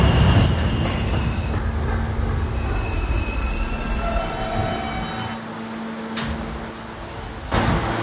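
R160A subway train on the K line running through a Roblox game world: steady rolling rumble with high squealing tones, a brief cabin announcement chime partway through, no talk.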